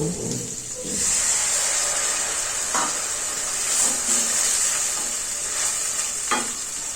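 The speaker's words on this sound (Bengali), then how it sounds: "পেঁয়াজটি ভাজা হয়ে গিয়েছে এখন একটু পানি দিয়ে দিচ্ছি" Steady loud sizzling of fried onions in a hot pan as water is added, with a few soft stirring scrapes and bursts of steam hiss throughout.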